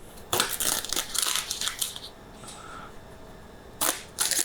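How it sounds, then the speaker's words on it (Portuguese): Taioba leaves torn apart by hand in a kitchen, several crisp ripping and crunching bursts clustered at the start, a quiet pause, then two more tearing sounds at the end, close and fairly loud. "Eu vou rasgando com a mão, vou colhendo os pedaços que eu quero colher"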